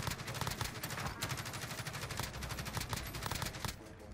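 Kilo 141 rifle fire in Call of Duty: Warzone, with rapid sustained bursts of sharp, loud automatic shots crackling one after another across the whole stretch.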